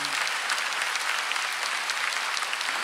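A church congregation at a Sunday worship service claps hard together, a thick, continuous, fairly loud wash of clapping throughout.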